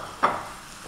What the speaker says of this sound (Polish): Patelnia z olejem jest mocno już rozgrzana. Zanim jednak zaczniemy smażyć fileta, podsmażymy warzywa.